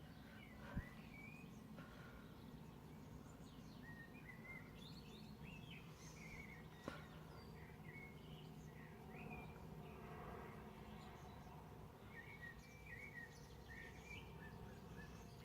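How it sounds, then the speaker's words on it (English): Small birds chirp and tweet intermittently at a moderate distance in a garden with an apple tree, over a steady outdoor hum, with occasional faint clicks. "Can you hear the birds tweeting?"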